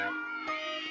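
A cat gives a short, clear meow at close range, quiet and alone.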